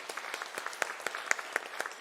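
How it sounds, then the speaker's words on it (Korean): A church congregation claps during a Sunday worship service, with sharp, fairly even claps repeating steadily at moderate loudness. "큰 박수 부탁드리겠습니다."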